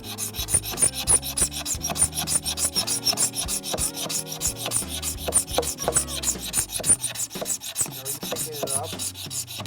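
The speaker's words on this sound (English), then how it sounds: "Once the scraper touches the floor, you don't pick it up until you're done scraping." Hand scraper dragged steadily across a wood floor by a floor-finishing pro, a continuous rough rasping with repeated strokes, close and fairly loud, no talking.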